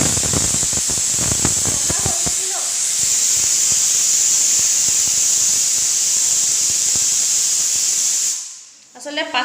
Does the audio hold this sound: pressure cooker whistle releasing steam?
yes